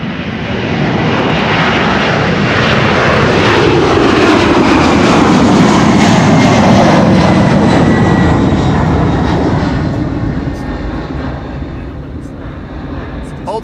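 A jet airliner departing Amsterdam Schiphol runway 24, a loud, sustained engine roar that swells and holds before slowly fading as it climbs away.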